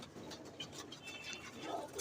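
A female pigeon coos softly, with low throaty murmurs and faint rustling nearby against a quiet outdoor background.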